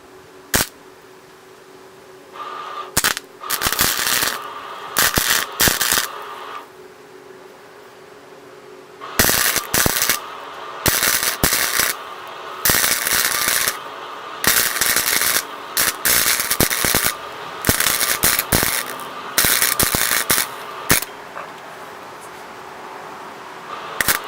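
Metal is welded while building snowmobile wheels: repeated loud bursts of crackling, buzzing arc, several seconds each, separated by short pauses.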